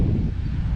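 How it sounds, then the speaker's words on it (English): Wind blowing outdoors and buffeting the microphone in a brief, steady, close rumbling roar, with no talking. "I'm pausing because it's becoming windy."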